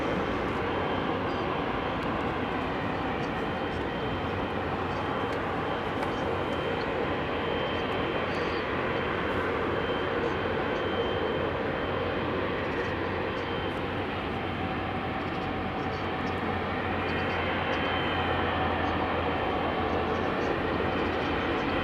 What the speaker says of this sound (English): Long takeoff roll for an ATR.